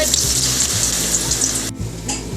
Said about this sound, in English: So it's getting fried.